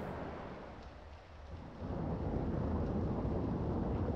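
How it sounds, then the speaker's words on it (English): A stormy sea in Garry's Mod, with steady heavy rain hissing over the ocean and a low thunder rumble that dips, then swells into a loud, dense roar, with no voices. "it kind of bugs me how the rain is kind of falling into the ocean"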